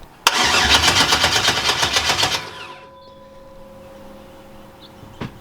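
A rusty Chevy Nova engine cranking without firing: a loud starter whirring in a steady pulsing rhythm for about two seconds, then stopping, followed by quiet with a faint click.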